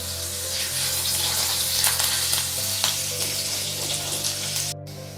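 Chopped ginger stir-fried in hot oil with a dried red chilli for a vegetarian dish, a continuous close sizzle with repeated stirring scrapes and a brief dropout near the end, with no voices.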